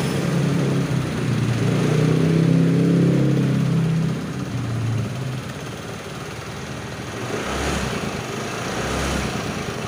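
A Honda Vario scooter with a carburetor revs during a battery charging check, giving a throaty engine roar that rises and holds for a few seconds, then drops back to a steady idle with small blips.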